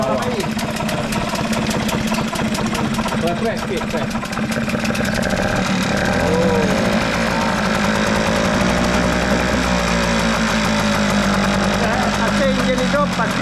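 A water-cooled longtail boat engine runs steadily and loud up close, a rough continuous chugging throughout, with people talking over it.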